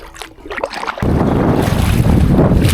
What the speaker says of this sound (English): Here's a little bit of footage of yesterday kayaking in the wind.